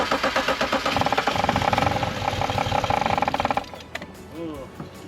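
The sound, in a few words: BMW 335i engine starting but failing to idle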